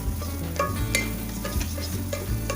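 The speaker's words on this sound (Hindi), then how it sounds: "इसको हल्का सा हमें भूनना है कैरेट को, कि ये अच्छे से कुक हो जाए" Finely chopped dried carrots sautéed in a pan, with steady stirring scrapes and light clicks over a constant sizzle, close up and fairly loud.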